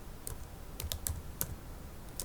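A computer keyboard typed on close up, with a short irregular run of about half a dozen sharp key clicks over a faint room hiss and no voices.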